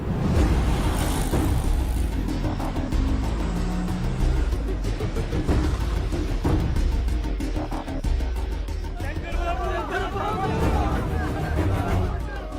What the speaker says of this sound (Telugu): తిప్పరా ఆటోని